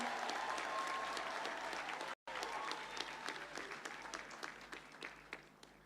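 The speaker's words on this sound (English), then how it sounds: "Kindly give a round of applause to yourselves as we begin this conferment of degrees." Graduates and guests at a university degree conferment ceremony give a broad round of applause, a continuous wash of clapping from a large crowd that briefly cuts out, then slowly thins and fades.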